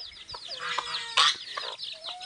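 Rhode Island Red hens clucking in a farmyard, a few short close clucks and squawks with one louder burst, over faint background sounds.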